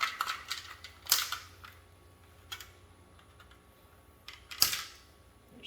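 Bulbs being popped out of the third brake light housing of a Ford Maverick, a few sharp plastic clicks and snaps spaced apart over quiet background.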